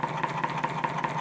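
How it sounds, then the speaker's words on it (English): A homemade radial four-piston coil magnet engine with ring magnets idles with a steady, even pulsing hum and a regular rhythmic beat, close up and moderately loud, with no voices. "now I'll just step up the RPM from idle, which it's doing at the moment"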